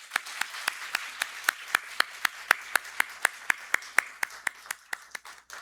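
A church congregation claps together in a steady, rhythmic unison beat, about twenty sharp claps over several seconds, moderately loud and close, with no other sound between them.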